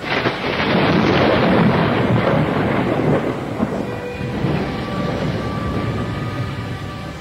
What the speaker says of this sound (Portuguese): Na hora costumeira, na cova da Iria, ouviu-se um trovão